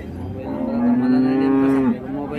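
A desi indigenous cow lets out one long, loud, steady moo close by at the Chakan cattle market, against a constant background murmur of the market.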